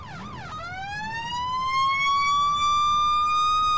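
An ambulance siren from the Emergency 4 game with a Fairbanks, Alaska mod, set on a rainy, cold day. After a quick rising yelp it settles into a loud, steady, climbing wail with no talk over it.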